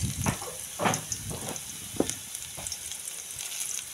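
Garlic sizzles in hot oil in a pan over lowered heat, a steady close crackling hiss with small pops and stirring scrapes.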